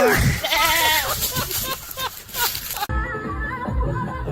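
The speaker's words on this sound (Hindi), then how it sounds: "अबे मेरा बकरा काली जा रहा है बे।" A goat bleats several times with a wavering, shaky cry in the first seconds, mixed with a voice and music, then a louder, busier stretch of talk and noise follows.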